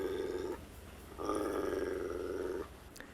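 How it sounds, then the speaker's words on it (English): Electronic dog growl played from a Fishguard motion alarm unit, two low rumbling growls with a short pause between, close and clear with no talk. "The second one is a dog growl."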